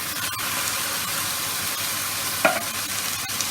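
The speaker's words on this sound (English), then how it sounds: "I'm going to add in my tin of tomatoes" Chicken sizzles steadily in a frying pan as tinned tomatoes go in, with a constant close hiss and one short, brighter splash burst partway through.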